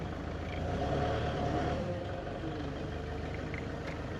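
A LG CLG2025H 5,000 lb diesel forklift on pneumatic tires runs steadily at low volume, its engine humming as it drives forward and back without any distinct shifts.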